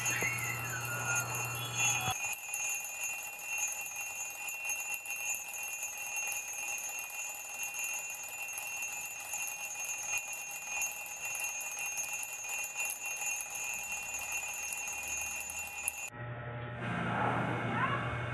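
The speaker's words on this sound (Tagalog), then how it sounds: "Iset mo na ang alarm mo" An alarm clock rings in a sustained, shrill electronic tone for about fourteen seconds, with brief voices before and after it.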